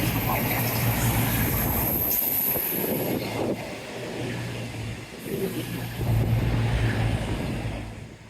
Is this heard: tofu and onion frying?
no